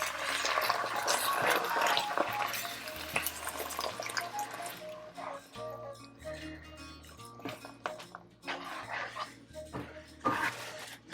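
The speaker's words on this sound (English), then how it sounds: "I'm going to add in the rest of the coconut milk" Coconut milk poured into a salmon curry in a pan, a wet gurgling pour and splashy drips, close and moderately loud, followed by softer liquid sounds and scattered clinks.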